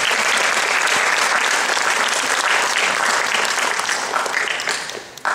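A lecture audience bursts into sustained, dense applause that stays loud and even before tapering off near the end.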